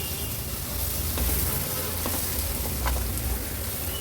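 Ground masala paste and tomato sautéing with onions in a pan: a steady broadband sizzle with a low hum beneath it and a few faint scrapes of stirring, continuous and fairly close.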